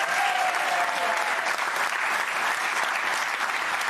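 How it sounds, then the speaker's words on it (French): A television studio audience applauds in a loud, steady burst of dense clapping that lasts throughout, close and unbroken. "applaudissements."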